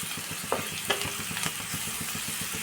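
Tomato frying in a pan over low heat gives a soft, continuous sizzle with faint repeated ticks and a few brief clinks of stirring, close and fairly quiet.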